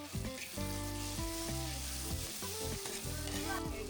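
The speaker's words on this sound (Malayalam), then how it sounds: "മസാല എണ്ണയിൽ കിടന്ന് നന്നായി ഫ്രൈ ആയതിനു ശേഷം" Spice masala of chilli powder, turmeric, garam masala, coriander powder and chicken masala fries in oil for homemade chicken biryani, a constant sizzle under music that plays throughout.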